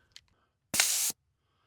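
A paint sprayer fires one short, loud hiss of test spray lasting under half a second. A few faint clicks come just before it, then quiet returns.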